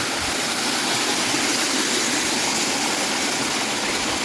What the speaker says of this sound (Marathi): मार्च महिना आणि फ्लो बघा पाण्याला